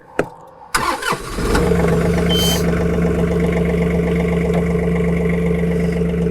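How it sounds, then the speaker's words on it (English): A John Deere tractor engine, detached from its 320R loader, cranks and catches after a few clunks, then settles into a loud, steady idle nearby. "So now that I'm detached, I can turn the tractor on."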